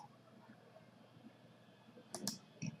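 Two quick key clicks followed by a heavier key press on a computer keyboard while typing X and hitting Enter, faint and close against a quiet room hum.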